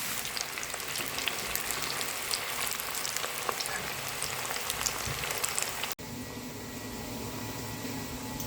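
Chicken pakoda pieces sizzle and crackle steadily in hot oil at close range, a dense continuous frying hiss that stays even throughout, with a brief drop before it carries on.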